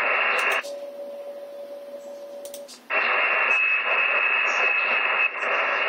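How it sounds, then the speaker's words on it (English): A moonbounce radio signal's echo, reflected off the moon and received on a dish, comes through as a thin steady tone in loud radio hiss, broken by a short quieter stretch before the hiss returns. "Have you heard the echo?"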